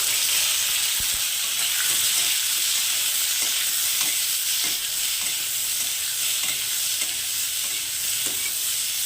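Steady, loud sizzling of boiled hog plums frying in hot spiced oil for pickle, with occasional soft clicks of stirring throughout.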